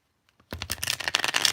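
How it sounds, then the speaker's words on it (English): A deck of tarot cards is shuffled up close: two faint taps, then a dense, rapid burst of papery flicking and riffling that carries on loudly to the end, with no talking. "Let me do one more shuffle."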